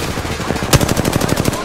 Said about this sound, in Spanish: Me están disparando con el Maker